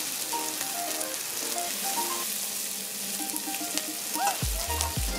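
A pan sautéing on medium-high heat for stewed fish holds a loud, continuous sizzle and crackle for the whole stretch, with faint tonal beeps and a low thump near the end.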